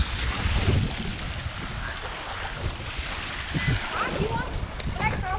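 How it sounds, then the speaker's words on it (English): Wind buffets the microphone on a beach while waves wash in a steady rumbling hiss underneath, and people talk nearby over the surf. "Made it to the beach."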